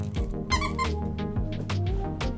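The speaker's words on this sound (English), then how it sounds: "my dog's trying to give me his squeaky toy right now" Dog's squeaky toy squeaking several times in quick, irregular bursts, close by, alongside soft thumps indoors in a home studio.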